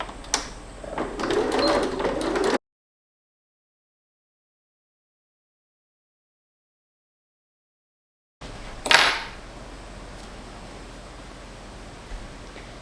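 A sewing machine stitches a baby romper in two short runs with a long silence between them. The motor whirrs close and steady, with a sharp rustle of fabric handling as the second run starts.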